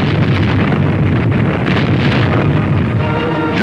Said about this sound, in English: We returned the fire.